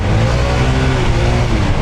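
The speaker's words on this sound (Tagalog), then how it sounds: "parang masyado ng gigil yung makina" A Honda ADV 160 scooter engine revs steadily and loudly up close, a continuous droning hum with no pauses.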